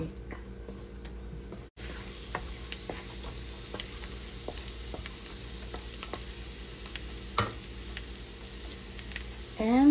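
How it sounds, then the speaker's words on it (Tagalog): Garlic sautéing in a hot pan makes a steady, close sizzle with scattered crisp pops and ticks running throughout. "Then, I will put garlic or yung ating tinatawag na bawang. Saute until aromatic."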